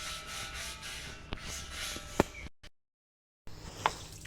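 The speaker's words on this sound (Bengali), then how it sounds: "চারিদিকটা ঘষে দিই" A cloth or scrubber rubs around the outside of a domestic gas cylinder, giving a steady close scraping that runs for about two seconds, then a short silence, then a last brief rub.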